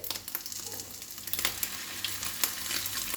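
A thin fish roe bhaji patty fries in a pan over a low flame, giving a soft, steady sizzle dotted with crackles and small pops.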